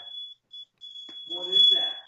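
A fire alarm beeps in short, shrill repeated tones, then holds a continuous high tone while people talk over it nearby.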